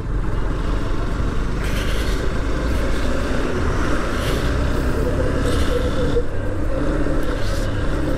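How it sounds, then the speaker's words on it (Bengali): A Honda Hornet 2.0 motorcycle being ridden on the road, its engine a steady drone blended with constant rushing wind noise, loud and unbroken for the whole stretch. "খুব মজা আলহামদুলিল্লাহ বাইক চালায়।"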